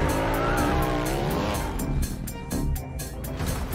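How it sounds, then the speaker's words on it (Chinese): A motorcycle roars through a high-speed stunt sequence in the 007 film No Time to Die, engine revving loudly with rising and falling pitch and tire screeches, mixed with dramatic film sound. "接着骑上小摩托就炫了一把高难度车技"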